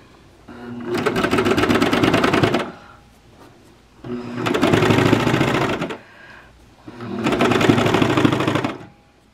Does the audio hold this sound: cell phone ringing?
no